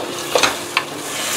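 Cauliflower and vegetables sautéing in a pan, a steady soft sizzle with a few light scraping stirs.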